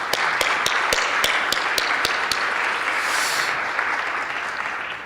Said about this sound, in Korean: 여러분들 같이 좀 박수 한번 부탁드리겠습니다.